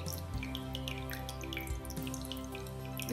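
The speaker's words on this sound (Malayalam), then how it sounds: "ഇനി നമ്മുടെ രസമലായി ഇതിലേക്ക് നമുക്ക് ഒഴിച്ചു കൊടുക്കാം" Rasmalai milk poured from close by onto a soft cake, a faint wet trickle with scattered light drips and splashes running steadily throughout.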